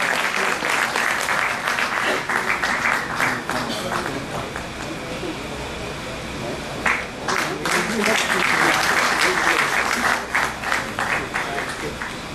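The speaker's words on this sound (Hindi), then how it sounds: "जोरदार तालियों से स्वागत करें।" Loud, continuous applause from a seminar audience welcoming a guest with a bouquet, a dense crowd of clapping hands that swells and holds, with voices mixed in.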